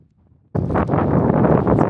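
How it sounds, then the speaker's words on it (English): After a moment of near silence, strong wind suddenly buffets the microphone on the Menai shore near Caernarfon, a loud continuous roar that keeps gusting to the end. "It's very windy today."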